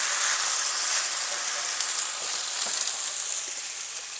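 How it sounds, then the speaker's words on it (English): Pork tenderloin sears in a hot skillet, giving a steady, bright, close sizzle that holds evenly throughout with no talking. "So take your pork tenderloin, work it down in that skillet"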